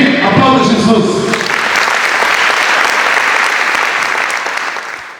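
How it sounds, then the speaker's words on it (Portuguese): A church congregation breaks into loud, sustained applause, with a voice heard over the clapping at the start before the sound tapers off at the end. "Aplauda Jesus."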